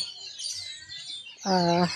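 Birds in the bird area of an eco park give thin, high chirps, ending in one louder, nearby call, over quiet outdoor ambience.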